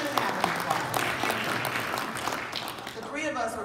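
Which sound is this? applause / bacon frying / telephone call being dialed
applause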